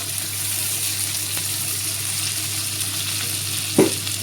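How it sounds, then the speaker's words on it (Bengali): Chopped tomato hits hot oil in a frying pan and sizzles steadily, a constant close hiss with a brief knock of a utensil near the end. "এখন দিয়ে দেবো টমেটো কুচি।"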